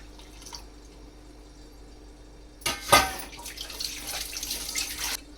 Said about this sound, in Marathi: थोडंसं पाणी टाकलं ह्याच्यामध्ये